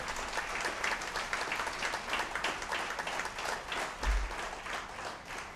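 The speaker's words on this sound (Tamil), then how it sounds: "அவங்களுக்கு ஒரு கைத்தட்டு கொடுங்க" An audience at a Tamil stage debate (pattimandram) applauds, a dense, even wash of many hands clapping that fills the whole stretch at moderate distance and fairly low level.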